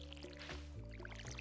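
Watering can pouring water onto garden plots in the Stardew Valley farming game, soft dripping and splashing in short bursts over steady background music.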